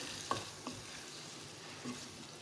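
Fried potatoes are stirred into a softened tomato masala for chatpata aloo, a quiet, low sizzle with a few soft scrapes and bumps from the spoon.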